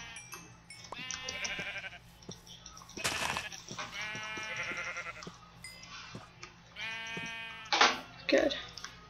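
Sheep in the Minecraft video game bleat several times in a row, their clear, wavering calls standing out over a quiet background with a few soft clicks.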